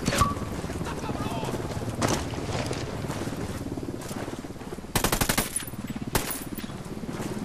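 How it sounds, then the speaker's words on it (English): Gunfire in the video game Ghost Recon Wildlands, with rapid bursts of automatic shots over a constant windy, engine-like background drone, several sharp volleys standing out loudly near the middle and end. "I'm opening fire"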